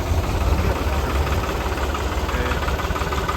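A tractor engine runs in low gear in a farm field, giving a steady, close, rumbling drone that holds an even level throughout without pause.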